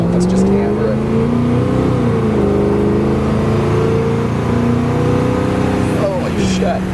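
A 1977 Ford F150 Dentside 4x4 pickup accelerating hard, its engine heard from inside with a loud, rising roar and a gear change partway through, ending with a short exclamation from someone aboard.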